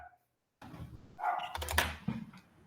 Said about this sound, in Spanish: voy a ver por qué ladran los perros